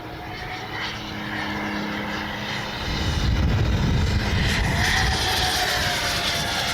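An RC MiG-29 model jet taking off and flying at an airfield, a steady engine whine rising in loudness as it climbs away, continuous and fairly near, with no talking.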